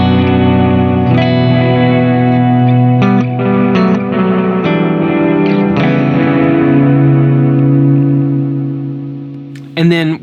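Electric guitar through a Wonderful Audio Technology Ancient Echoes pedal set to a low reflection level, sustained chords washed in spacey reverb and echo that swell and blend, ending with a brief sharp noise.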